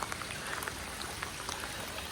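Heavy monsoon rain pours steadily over a flooded village after days of downpour, a dense, continuous hiss of drops hitting water and surfaces, close and uniform with no voices.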